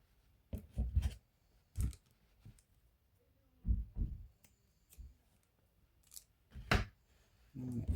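Scissors snip through crochet yarn while a mesh halter top is finished, a few short crisp cuts and soft handling clicks spaced out, close and quiet, with no talking.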